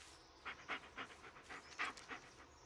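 A dog pants rhythmically in the Blair Witch video game, with about eight close, soft breathy puffs in steady succession and no talking over them.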